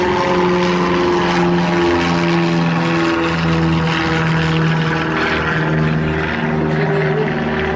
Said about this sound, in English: And we have another plane.